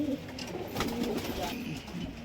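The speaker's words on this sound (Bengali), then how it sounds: "পুরনো অনেক বয়স্ক পায়রা, এটা মাদা পায়রা" Pigeons coo softly in low, rolling calls after an old Madras pigeon is released, with someone speaking quietly over the cooing.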